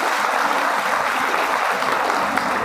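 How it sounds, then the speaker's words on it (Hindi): Loud, sustained clapping from a crowd at a rally celebrating women, dense and even from start to end. "इनके लिए जोरदार तालियां"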